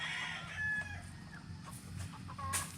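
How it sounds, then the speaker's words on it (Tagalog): Chickens cluck and a rooster crows among a flock of gamefowl in a farmyard range area, with quiet, somewhat distant calls overlapping over low background noise. "Ayun po, mga manok."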